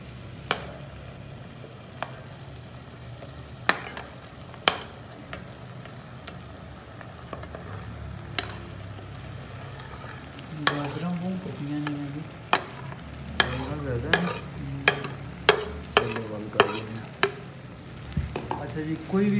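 Mixed vegetables frying and sizzling in a pan, with a steady hiss and repeated sharp knocks and scrapes as a spoon stirs them, the stirring growing busier in the second half.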